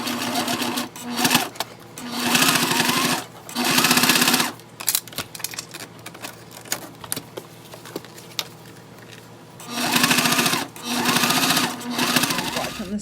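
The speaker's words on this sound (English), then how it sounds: "we're going to go ahead and top stitch all the way, even past the tabs, all the way from one end to the other end, and top stitch down" Sewing machine top stitching a waist bag from one end to the other, running in several long sustained bursts with short pauses and quieter handling between.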